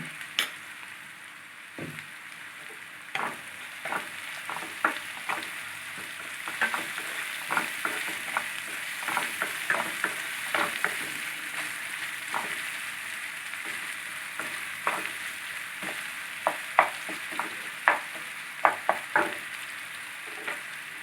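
Onions with a pinch of salt frying in a pan for a makhana curry, a continuous sizzle broken by frequent scraping stirs and spatula knocks that grow busier toward the end, close up and without speech.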